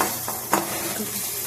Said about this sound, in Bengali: এটা হচ্ছে বিনটা ভেজে নিচ্ছি, সঙ্গে ক্যাপসিকাম দেওয়া আছে।